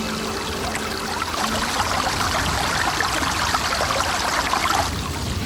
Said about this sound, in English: a handful of tiny springs still bring up water, incredibly salty and bitter to the taste.